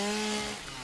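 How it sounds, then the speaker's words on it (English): A chainsaw revs briefly in the video game Satisfactory, giving a steady, buzzing motor drone that fades slightly near the end. "Running around with a chainsaw, chopping up everything I see?"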